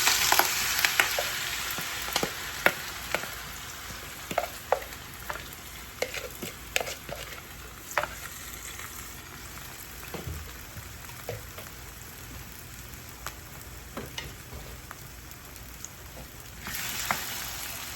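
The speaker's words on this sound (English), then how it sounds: "Go ahead and fry these up and get these crisp." Potatoes fry in a pan with a steady crackling sizzle throughout, dotted with sharp pops and occasional stirring clicks, close and moderate in volume, with no talking over it.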